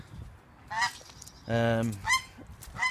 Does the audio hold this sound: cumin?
no